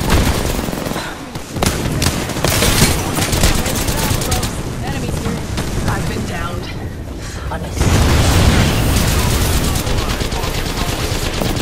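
Dense, loud video game combat: rapid machine-gun bursts and fusillades mixed with booming explosions, continuous throughout and swelling louder near the end.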